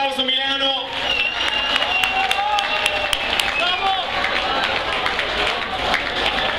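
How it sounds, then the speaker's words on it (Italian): Crowd at a New Year's Eve eurodance party in Milan breaks into sustained clapping and cheering, while an announcer's voice rings out above the applause. "Voglio sentire un grandissimo applauso, Milano."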